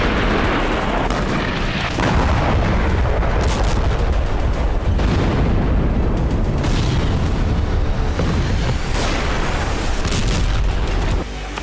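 Explosions from a Ukrainian drone attack on a Russian oil depot in Krasnodar, a dense continuous roar of loud booms and blasts with rumbling bursts, sustained throughout without talk.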